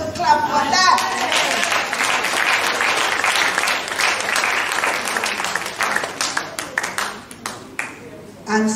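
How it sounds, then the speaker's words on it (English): Audience clapping at a commemorative gathering, a full burst of applause that holds strongly, then thins into scattered individual claps toward the end, with some voices underneath. "You're supposed to clap for that."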